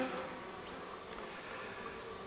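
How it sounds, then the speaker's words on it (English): Honeybees at an open hive give off a dense, steady buzzing drone close by, continuous and unbroken, with no talking. "Bees are obviously delighted with their new super"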